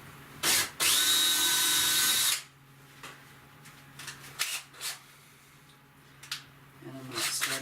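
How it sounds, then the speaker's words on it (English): A power drill whirs loudly for about two seconds after a short blip, drilling a pilot hole, then stops, leaving scattered handling clicks and knocks. "I'm going to take my pre-drill and drill a hole through the center"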